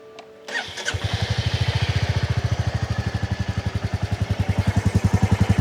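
A motorcycle with a badly worn, noisy chain kicks into life close by, then settles into a loud, rapid, evenly pulsing idle; no one speaks.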